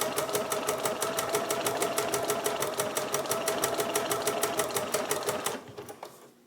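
A sewing machine stitches close by in a fast, even rhythm of mechanical clicks, running steadily for several seconds before stopping.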